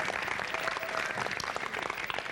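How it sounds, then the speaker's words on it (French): A Cameroonian television show audience applauds a sponsor, a brief, even burst of crowd clapping heard from a moderate distance. "On applaudit GIZ"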